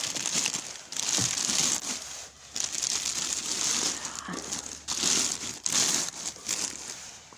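Plastic sheeting laid over garden crown daisy and lettuce plants crinkles and rustles in a steady, continuous wash, with several brief pauses, fairly close and moderately loud, with no talking.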